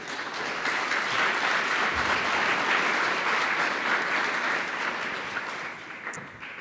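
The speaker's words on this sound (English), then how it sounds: "Please give them a warm round of applause." Conference attendees give a warm round of applause for the speakers at a data science talk, sustained crowd clapping that swells then tapers off near the end.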